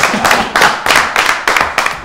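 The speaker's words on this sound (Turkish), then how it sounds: "Bir alkış Sezgin abi." Loud, close clapping on a game show set comes in evenly spaced rhythmic beats, about every quarter second, like a small group clapping in unison rather than a scattered crowd.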